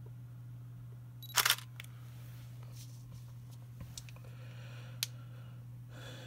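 A Nikon-mount camera fitted with a Leitz Wetzlar Super-Angulon R lens gives a sharp, close shutter clatter early on, followed by faint clicks and a later single tick over a steady low hum, with no talk.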